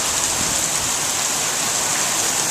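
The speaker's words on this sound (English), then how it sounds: "And now the rain is coming down harder and stronger" Heavy storm rain is driven by wind in a loud, unbroken hiss that sounds close by and steady throughout, with no voices.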